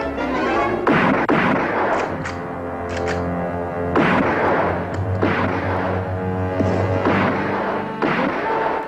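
Gunfire in a Western shootout near Laredo, with heavy booming shots and crashing impacts at irregular intervals, each followed by a ringing tail.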